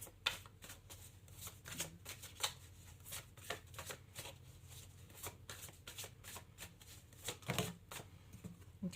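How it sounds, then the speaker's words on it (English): Tarot cards shuffled continuously by hand, a steady run of crisp riffling flicks and soft slaps, close and fairly quiet, with no talking over it. "Let's keep shuffling."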